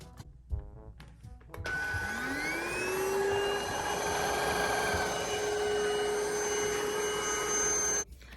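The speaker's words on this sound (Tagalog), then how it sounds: "Iba-vacuum ko nga itong harap." An Onson vacuum cleaner starts up after a few soft clicks, its motor whine rising in pitch and then droning loudly and steadily before it cuts off abruptly near the end.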